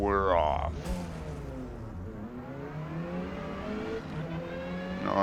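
Lancia Delta race car in the video game Forza Motorsport, racing in D class at Catalunya, revving hard off the start line. The engine pitch climbs in loud rising sweeps, drops at a gear change, then climbs again.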